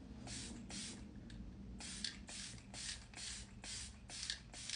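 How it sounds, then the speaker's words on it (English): Setting spray misted onto a face during a budget beauty box makeup try-on, about eight quick hissing bursts in a steady rhythm, close and fairly loud, with no talking. "let's set our face using the setting spray"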